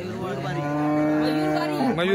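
A cow at a cattle market lets out one long, loud moo that rises and falls, close by, with faint background noise around it.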